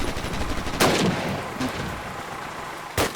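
Gunfire in the Call of Duty video game sounds at a distance, with a few sharp bursts standing out over a dense, continuous battle rumble, moderately loud and without speech.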